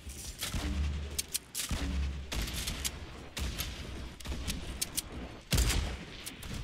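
Sniper rifle shots in a Fortnite 50v50 match ring out as sharp, loud cracks at irregular intervals, with some dense bursts of gunfire overlapping in a noisy battle.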